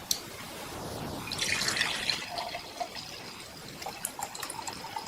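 Hot water pours steadily into a large mug, a close splashing stream that thins into trickles and drips toward the end, with no talk.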